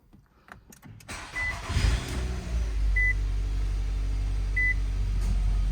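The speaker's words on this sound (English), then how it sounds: "Let's try to start the car real quick." A 2013 Nissan Altima SV engine cranks briefly and catches, then settles into a steady, close idle rumble, with a few short electronic chime beeps sounding over it. No one speaks.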